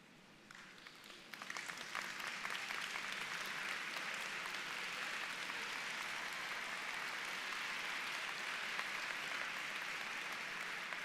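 Audience at a high school graduation ceremony applauding parents and grandparents, sustained even clapping that swells within the first two seconds and holds steady, moderately distant.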